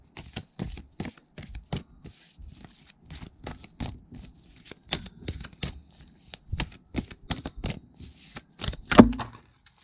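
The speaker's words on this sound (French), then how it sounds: "trop grandes cartes et j'ai du mal à les mélanger." Large oracle cards are shuffled by hand, their stiff edges giving an irregular stream of soft riffles, slaps and flicks at close range, with no voice over them.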